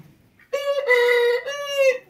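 A close, single drawn-out chicken call sounds inside a coop housing hens with a swollen crop, lasting about a second and a half and then stopping.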